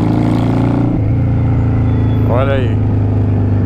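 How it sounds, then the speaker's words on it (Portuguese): A Yamaha Virago 535 motorcycle engine runs smoothly close by, a loud, steady low drone that dips slightly in pitch after a second, while someone speaks briefly over it. "Motor bem suave, troca de marcha bem suave também."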